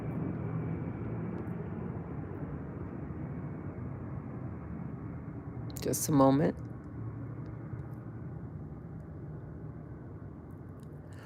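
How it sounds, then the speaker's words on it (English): Airplanes pass overhead as a steady, distant low rumble that runs throughout, with one brief louder swell near the middle; a voice speaks over part of it. "So the planes are flying by."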